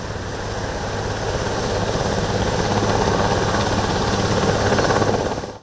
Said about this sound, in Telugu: హెలికాప్టర్లు రంగంలోకి దిగాయి.